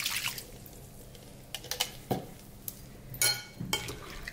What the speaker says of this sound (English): And then I'm gonna mix it.